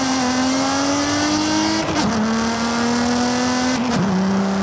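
A BMW E46 M3 in Forza Horizon 5 revs loudly and steadily under acceleration, with two brief upshift dips before the tone climbs again; close and continuous, with no talk.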